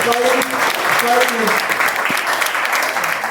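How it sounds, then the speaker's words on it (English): An audience applauds presenters after a talk, continuous brisk clapping filling the room, with a few voices calling out faintly beneath it. "Hand of applause to these guys."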